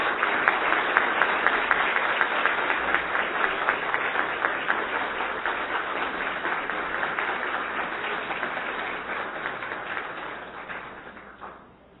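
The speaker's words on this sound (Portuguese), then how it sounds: "que todos nós fiquemos de pé e aplaudam esses dois companheiros" An audience at a formal solemn session in Pernambuco gives a standing ovation to two honourees, a steady, close wash of clapping with a rhythmic pulse that fades out near the end.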